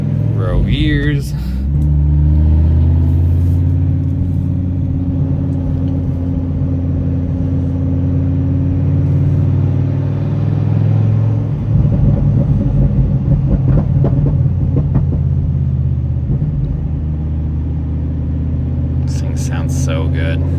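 A Dodge Ram SRT-10 pickup with a Viper V10 engine rumbles deeply and steadily throughout, swelling into a louder rev around the middle and settling back, close to the microphone.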